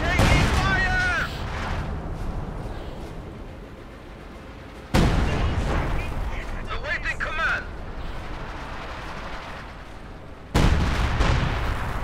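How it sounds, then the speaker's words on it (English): Artillery bombardment in a WWII strategy game, with heavy booms and explosive bursts recurring under continuous game voice lines and battle noise, three sharp loud onsets standing out over a rumbling background. "They're getting bombarded themselves."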